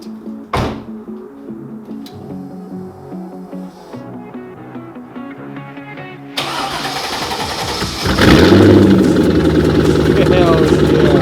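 A C5 Corvette with a muffler delete and straight tips starts up: a starter whine and click, then the engine catches into a loud, raw, rumbling idle that grows louder, with people talking nearby.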